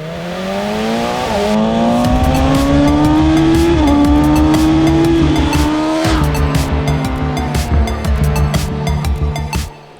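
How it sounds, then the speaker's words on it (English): A BMW M 1000 R motorcycle's engine revs hard and loud, its pitch climbing in sweeping rising and falling surges with a steady low pulsing note underneath, ending abruptly after about ten seconds. "Apart from one thing, the engine."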